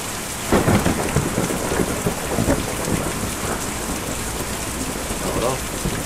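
Steady rain pours and thunder rumbles in the video game Kentucky Route 0, a dense continuous wash with low rolling bursts throughout.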